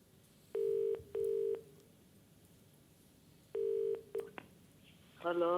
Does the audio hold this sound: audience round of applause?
no